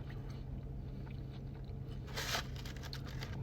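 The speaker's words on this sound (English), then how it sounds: "Good crunch on the crust again." Close crunching bites of a charred New York pizza crust, a few crisp chews rising briefly above a loud, steady background hum, with no talking.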